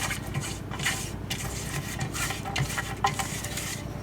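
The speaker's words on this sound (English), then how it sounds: "I have a tin. I'm going to oil it, grease it like this quickly." A cake tin for an eggless chocolate cake is greased with oil, giving soft repeated rubbing and light metallic scraping sounds, close and steady, with no voice.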